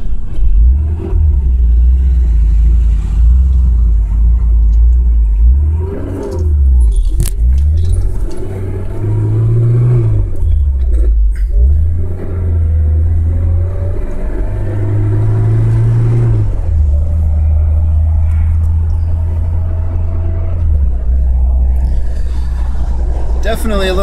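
Fiat 2000 Spyder engine idling and revving close by, a steady low rumble that rises and falls with a few throttle blips, with someone talking over it much of the time.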